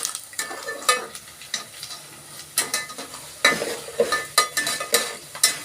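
Food frying in a pan and being stirred, a steady sizzle broken by repeated sharp scraping strokes of a spatula against the pan, close and rhythmic, with no talking.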